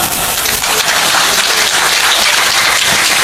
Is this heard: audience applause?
yes